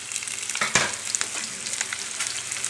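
Ginger pieces and green chillies fry in a hot pan, giving a steady close sizzle and crackle with one brief stirring knock and no talk.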